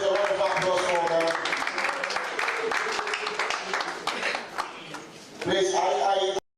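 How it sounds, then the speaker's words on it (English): An audience at a Nigerian national league award ceremony applauds the awardees, steady clapping mixed with talk and background music, then dips briefly before swelling again. "Please, a round of applause for them."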